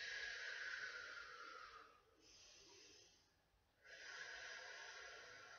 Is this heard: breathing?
yes